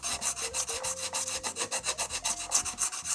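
Rhythmic rasping strokes of a FRTLZR fret leveling tool sanding across guitar frets, a steady back-and-forth scrape repeating about five times a second, close and alone with no voices.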